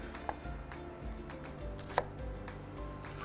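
Knife cutting a halved leek into strips on a board, soft irregular taps and slices, faint and close with no voices.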